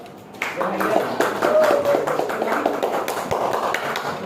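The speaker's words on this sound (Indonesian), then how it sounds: "Beri tepuk tangan dulu buat si Michael." Classroom applause for Michael, a scattered patter of hands clapping that swells and lingers over murmuring voices.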